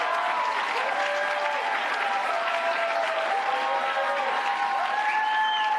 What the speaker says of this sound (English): A lengthy standing ovation for Hillary Clinton